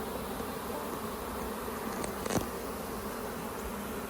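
Bees buzzing around an open hive during a springtime inspection, a steady droning hum with one bee passing close and briefly louder midway, no talking.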